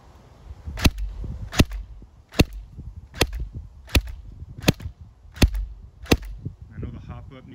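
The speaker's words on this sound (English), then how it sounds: "I'm gonna fire at the wall right here." Eight sharp, evenly spaced shots from an FN Herstal P90 airsoft gun fired semi-auto at an indoor wall, each a crisp loud crack with a short slap, spaced just under a second apart, then a brief mechanical rattle at the end.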